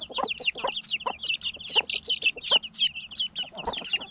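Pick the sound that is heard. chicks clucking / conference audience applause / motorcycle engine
chicks clucking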